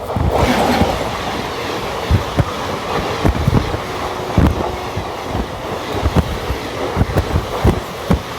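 Simhadri Express passenger train running on an Indian railway line, a steady rumbling roar with repeated rhythmic wheel clicks over rail joints and some wind buffeting, close and continuous with no voices.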